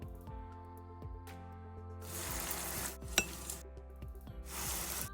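Mysore bonda batter drops into hot oil in bursts of sizzling, with a spoon clinking against a metal pan between drops, heard close and fairly quiet.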